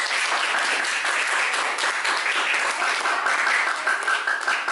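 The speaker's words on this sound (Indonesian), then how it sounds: "sekali lagi aplaus untuk kelompok osmosis" A classroom of students applauds a student group after their presentation, a dense, steady burst of many hands clapping at close range that holds at the same level from start to finish.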